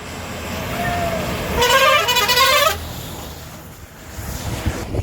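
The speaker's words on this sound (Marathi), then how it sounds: "गाडी आली मुंबईची गाडी आली" A vehicle arriving from Mumbai sounds a loud horn in a village setting: a sustained honk of about a second with warbling harmonics, standing out over steady outdoor background noise.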